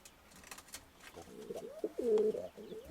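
Soft, close pigeon cooing in a breeding loft, a few rolling coos growing louder toward the end over quiet background.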